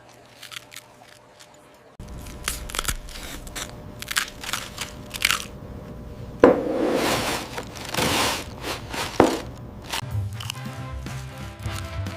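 Pringles potato chips are crunched and bitten in a string of sharp, crisp cracks, some isolated and others bunched together, loud and close with no talk.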